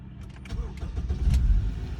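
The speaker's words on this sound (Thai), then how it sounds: "เดี๋ยวผมสตาร์ทเครื่องให้ฟังเสียงเครื่องยนต์กันดูนะครับ" A Honda Accord car engine cranks and catches, the rumble building and rising to a steady idle; a voice is briefly heard near the start.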